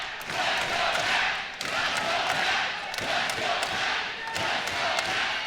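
Spectators at a college wrestling dual, Utah Valley versus Oklahoma, cheer loudly and steadily, with rhythmic thumps of stomping or clapping and occasional shouts punctuating the roar.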